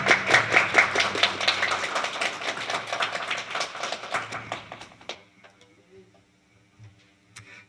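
A church congregation at a Sunday worship service applauds, with dense, fairly loud clapping that fades into a few scattered claps.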